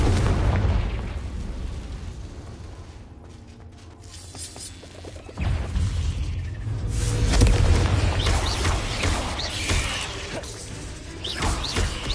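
Confringo fire spell blasting in Hogwarts Legacy on PS5, a loud booming explosion with rumbling low end, a brief lull, then a second heavy burst and crackling debris that trails off.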